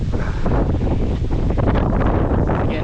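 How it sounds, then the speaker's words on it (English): Strong wind blows outdoors beside the water and buffets the microphone as a loud, continuous roaring rumble with gusty surges and no talking. "now the wind's picking up again"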